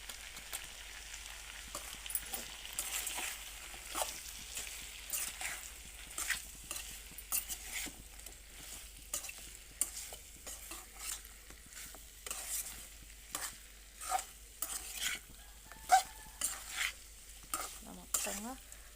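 Chicken curry with chili powder is stirred in a pan, soft repeated scraping and shuffling strokes over a faint sizzle, fairly quiet and close, in an irregular rhythm.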